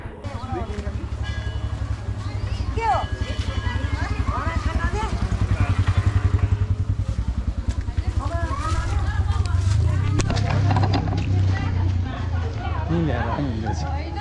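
A motorcycle engine putters at low revs as the bike rides up to a gate at Dhaneshwar Mahadev, its droning hum running steadily under people talking nearby.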